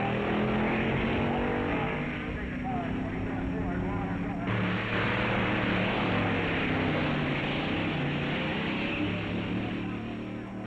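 Drag racing cars at a 1959 NHRA meet roar through time-trial test runs, a continuous loud engine drone that rises and shifts midway, with a narrator's voice running over it.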